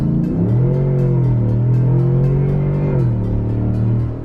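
A stock Yukon Denali V8 engine revs hard at full throttle, a loud, close, sustained roar that climbs, holds, dips and rises again over about four seconds.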